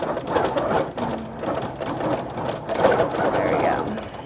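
A quilting sewing machine stitching at a steady pace, its rapid mechanical whirring and needle chatter loud and close, with people talking over it.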